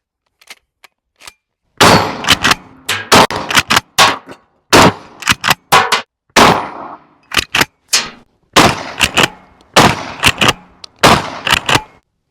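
A Tokarev TX3 12 gauge shotgun fires 3-inch shells at steel targets outdoors, giving a rapid string of loud, sharp blasts at uneven intervals, some close together, with faint clicks before the first shot.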